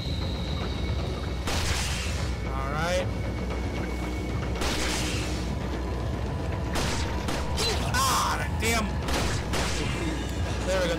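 Shotgun blasts from the video game Resident Evil 4 boom out in several separate loud bursts, each with a short ringing tail, over a constant low game background.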